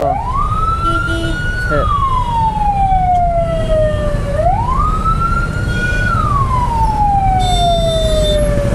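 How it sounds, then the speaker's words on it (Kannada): An ambulance siren wails in rising and falling sweeps at a traffic signal. It is loud and close, runs continuously over steady road and engine rumble, and other vehicles wait nearby. "ಆಂಬುಲೆನ್ಸ್ ಬರ್ತಿದ್ರು ಕೂಡ ಬೇಗ ಸಿಗ್ನಲ್ ಬಿಡಲ್ಲ ಗುರು ಇವರು"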